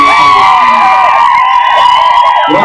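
Wailing sirens and blaring horns at an election campaign event in Vegivada fill the air continuously, loud and close, with a steady tonal drone and no speech.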